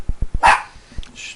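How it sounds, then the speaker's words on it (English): A single sharp dog bark from a television rings out after a few low thumps, sounding slightly boxy as if played through a speaker. "yeah, that's a dog on TV."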